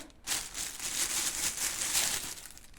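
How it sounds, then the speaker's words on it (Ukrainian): Plastic crinkles and rustles continuously up close as a bag is handled and opened, with no talking. "розгортаю пакет."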